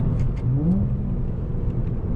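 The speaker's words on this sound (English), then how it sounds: "Let's check out these downshifts, see how these downshifts feel." An Acura TL with a short shifter and new bushings downshifting while driving, a steady close engine drone with a brief rising whine as the revs change, no speech.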